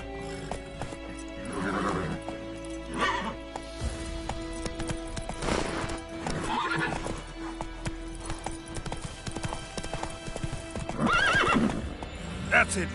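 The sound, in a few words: horse Roach galloping in The Witcher video game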